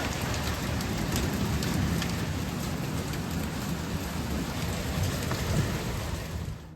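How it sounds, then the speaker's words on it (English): A steady, heavy downpour pours from a storm, with a constant loud hiss of rain on surfaces and low rumbling underneath that fits distant thunder, continuing without a break. "the storm finally caught up that they were promising"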